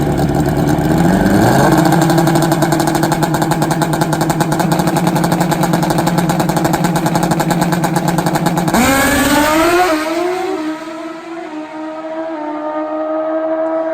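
A 600-horsepower nitrous Suzuki pro mod drag motorcycle with a Timblin chassis launches at a dragway, a loud, rising engine scream that holds for several seconds, then drops and fades into the distance as it runs away.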